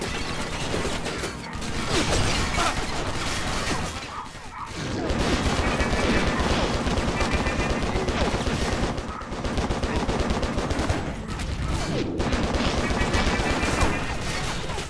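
Rapid bursts of gunfire and mechanical clatter from the game Stranglehold during a boss fight, with dense repeated shots, crashes and breaking windows, loud and near, with brief pauses between volleys.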